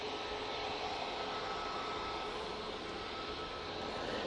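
A Boeing 737 Max airliner approaching to land at Manchester Airport, a steady, distant engine roar that holds level throughout the short stretch with no talk.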